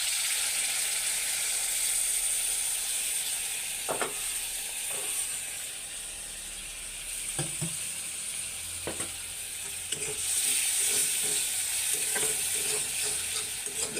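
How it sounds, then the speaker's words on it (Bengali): Spice masala with yogurt frying over low gas for a fish curry, a steady sizzle broken by repeated scraping stirs of a spoon against the pan, with no one talking. "তো এইগুলা গ্যাসের কমাই দিয়ে ভাজবেন"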